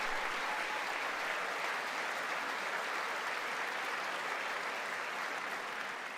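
Steady, dense applause from a large crowd at the 2020 State of the Union address fills the room, continuing evenly throughout without a break.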